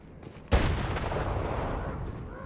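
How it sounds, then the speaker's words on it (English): A grenade goes off in the video game STALKER GAMMA: one sudden, loud blast about half a second in, followed by a long, noisy rumbling tail that stays strong to the end. "Gonna throw a grenade again."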